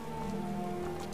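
Steady rain patters continuously in Skyrim, an even wash of falling drops with a low droning undertone and no voices.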